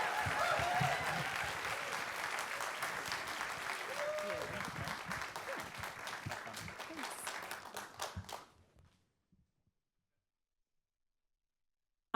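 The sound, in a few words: audience applause welcoming a storyteller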